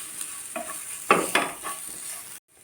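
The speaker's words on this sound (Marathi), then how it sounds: "आणि छान आता आपल्याला व्यवस्थित मिक्स करून घ्यायचं आहे" A spoon scraping and stirring a spice mixture in a pan while cooking methi matar malai, a few soft scrapes over a faint background hiss.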